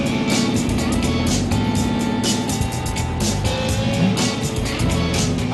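A 1967 Chevrolet Corvette C2 racing cabriolet, a rear-wheel-drive car, with its engine running loud and close throughout, a continuous deep rumble that holds steady.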